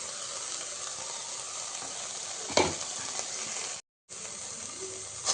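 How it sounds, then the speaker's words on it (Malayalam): A ground paste of coconut, cumin and chili is stirred into wilted spinach in a hot pan, with a continuous quiet sizzle, one sharp scrape of the spoon and a brief cut to silence. "കൂട്ട് ഇളക്കി യോജിപ്പിക്കുക"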